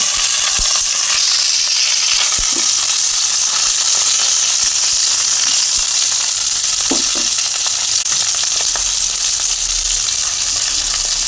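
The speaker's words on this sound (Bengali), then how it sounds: "এর মধ্যে আমি ফুলকপিগুলোকে দিয়ে দেবো, দিয়ে একটু ফুলকপিগুলো ভেজে তুলে নেব, এর মধ্যেই ভাজবো" Cauliflower florets frying in oil in a pan for a vegetarian cauliflower roast, giving a steady, loud sizzle and hiss throughout with a few soft stirring clicks and no talking.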